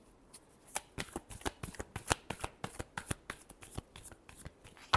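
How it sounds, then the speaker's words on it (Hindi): Tarot cards being shuffled by hand close up, a rapid series of crisp riffling flicks and slaps in an irregular rhythm, sharp and distinct against a quiet background. "Last shuffle."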